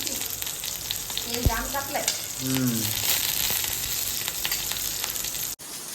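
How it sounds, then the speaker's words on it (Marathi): Green chillies fry in a pan for a bombil burji, giving a steady, close sizzle with light crackle throughout and a few brief tonal clinks near the start. "सगळ्यात अगोदर आपण मिरच्या घालून देऊ"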